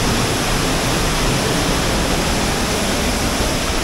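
Loud, unbroken roar of the Ryu-Jin-No-Taki waterfall in Gifu, a dense broadband rush of falling water heard close and alone.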